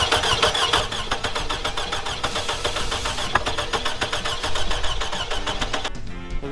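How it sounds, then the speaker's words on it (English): A high-mileage car engine being cranked with a jump box: loud, steady, rapid starter-motor chugging that runs for about six seconds without catching, then cuts off abruptly. "Alright, let's crank the world out of this thing."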